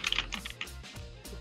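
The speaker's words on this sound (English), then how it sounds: "why the hell is your keyboard so goddamn loud, bro?" Loud computer keyboard typing over a voice chat call, a close, rapid clatter of keystrokes in quick bursts that run through the whole moment, with no talking.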